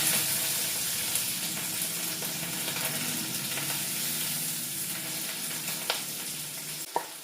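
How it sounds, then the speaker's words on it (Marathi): Curry leaves and onion tempering in hot oil in a kitchen pan, a dense continuous sizzle and spluttering close by, with a couple of brief sharp clicks near the end. "जरा फोडणी उडते"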